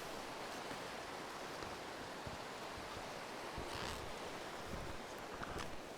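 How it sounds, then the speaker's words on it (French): A lively mountain torrent in snow, its flow a soft, steady, muffled rushing hiss that continues unbroken and fairly faint throughout, with no voices. "c'est un torrent, donc c'est quand même vif"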